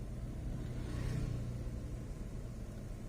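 Cars idling and creeping in a traffic jam near a bridge under construction, a low steady engine rumble with a slight rise in revving midway, close by and continuous with no voices.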